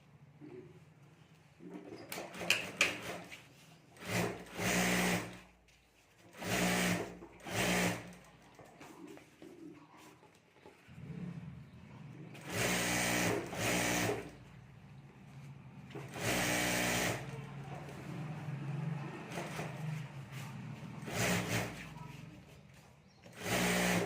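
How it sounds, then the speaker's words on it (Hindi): A sewing machine stitches the lining of a handmade sling bag in repeated short bursts of rapid mechanical whirring, separated by pauses with light handling noises, close and fairly loud. "तो यहाँ भी ऊपर में सिलाई कर देता हूँ"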